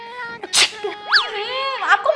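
One sharp, loud sneeze bursts out close by, followed by a short rising vocal squeal and further brief vocal noises, in a comedic school skit setting.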